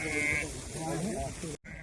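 Sheep bleat on a farm, a tremulous call in the first half second followed by a busy flock of overlapping bleats, mixed with people talking nearby before a brief cut.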